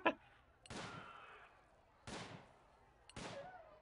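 Sniper rifle shots ring out in the prison management game Prison Architect, three sharp separate cracks with short decaying tails, spaced about a second apart, fairly faint.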